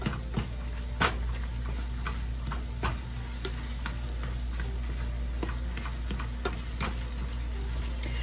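Onions cooking in a pan are mixed around, with soft sizzling under scattered spatula taps and scrapes, steady and close at a low level.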